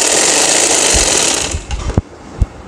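Household sewing machine stitching a dupatta, a fast steady whirring run close by that slows and halts, followed by a few sharp mechanical clicks.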